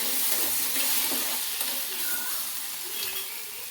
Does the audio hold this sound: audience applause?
no